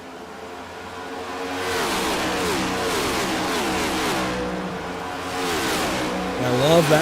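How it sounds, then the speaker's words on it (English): Race car engines roar past the start-finish line at Rockingham during a UFL Elite Series race, a loud sustained drone of several cars with pitch sweeps as they pass and a swell near the end. "Engine speeding by the start-finish line."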